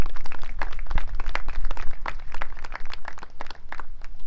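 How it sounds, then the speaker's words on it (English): Audience applauding at a high school graduation ceremony, a dense sustained clapping from many hands throughout at moderate loudness, with no speech. "Please give yourselves a round of applause."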